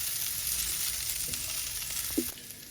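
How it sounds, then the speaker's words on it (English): Vegetables frying in a pot for a one-pot devilled sausage dish, a steady sizzle with a brief clink of a utensil near the end. "So the veggies had a couple of minutes of frying around there"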